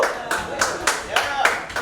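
A comedy show audience in Richmond, Virginia claps in a steady beat of about seven sharp, evenly spaced claps, with voices murmuring underneath.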